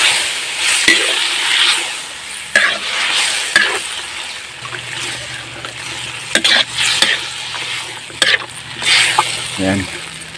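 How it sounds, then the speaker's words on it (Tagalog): Dinaldalem stirred into golden-brown garlic frying in a pan, a steady sizzle with scraping strokes and occasional clinks of the utensil against the pan, close and loud. "pwede na po natin ilagay itong ating dinaldalim. Yan. So haluin lang po natin ng konti."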